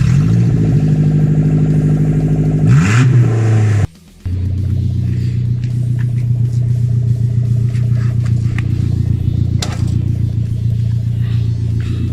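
A Suzuki Jimny with its exhaust removed idles and revs loudly up close, a raw, rumbling drone rising and falling in pitch, cutting off briefly before settling into a steady, throaty idle.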